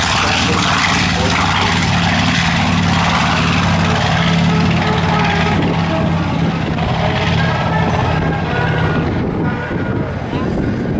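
Loud, continuous roar of propeller warplanes at an airshow, dominating the scene, with a droning engine hum throughout and a slight fade near the end.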